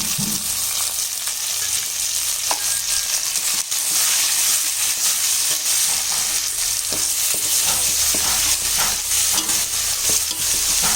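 Mint, coriander and ginger-garlic paste sautéing in oil for plain biryani, a steady dense sizzle with frequent scraping stirs and occasional clinks throughout, loud and close with no talking.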